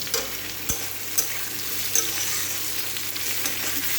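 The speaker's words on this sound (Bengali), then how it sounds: "এটা ভালো করে ভাজা, সবজি ভালো করে ভাজা না হলে তরকারিটা খেতেও ভালো লাগে না।" Steady sizzling of vegetables frying in a pan, with a few scraping stirs and clinks of a utensil, close and continuous.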